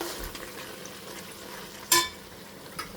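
A vegetable and fenugreek mixture is stirred in a pan, sizzling softly throughout, with one sharp clink of a spoon against the pan partway through.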